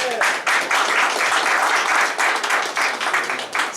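Conference audience applauding after a talk on organizational sustainability, a sustained, even roar of many hands clapping with slight swells, from start to finish without speech.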